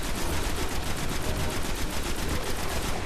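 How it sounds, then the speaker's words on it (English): Rapid automatic gunfire from a weapon in the Destiny video game on PS4, a fast, evenly spaced stream of loud shots that runs without pause throughout. "So let's keep putting bullets in him here."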